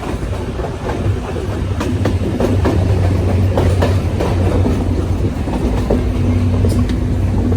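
Passenger train running on rails, a steady loud rumble with clickety-clack wheel beats throughout, close and continuous, with no talk.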